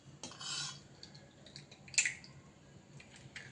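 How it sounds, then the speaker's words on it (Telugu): Eggs beaten in a bowl for a homemade brownie batter, a few quick scraping and clinking strokes of a utensil against the bowl, close and fairly quiet. "ఇప్పుడు ఎగ్స్ కూడా బీట్ చేసుకుందాం"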